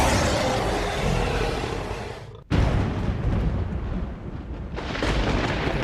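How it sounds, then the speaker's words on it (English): A loud cinematic lightning-strike effect in a composed soundtrack: a sustained roaring broadband rumble cuts off abruptly into a brief near-silence, then a sharp cracking blast hits and rumbles on, swelling again toward the end. "Because lightning strikes the table."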